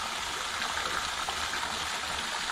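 A pond pump spits water back into a garden pond, making a steady, close splashing rush that does not change or stop, with no voices.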